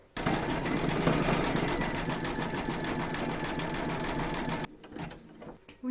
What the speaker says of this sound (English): Load your thread colour for the decorative stitching along the seam into your machine, and then stitch round number 7